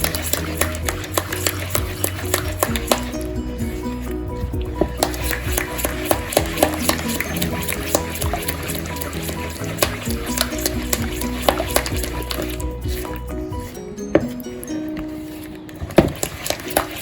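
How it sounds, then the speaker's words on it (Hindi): Mug cake batter is stirred continuously in one direction, a busy, even scraping and tapping of a spoon against the mug that runs unbroken for the whole stretch. "आप इसको अच्छे से मिक्स करेंगे एंड जस्ट मेक श्योर कि आप इसको एक ही पोजीशन में, एक ही डायरेक्शन में आप इसको मिक्स करेंगे"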